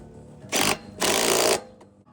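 An impact wrench tightens a nut on a split washer in two short, loud bursts of rapid hammering, the second longer than the first, separated by a brief pause.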